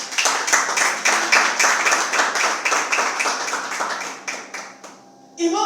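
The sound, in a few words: congregation clapping hands in church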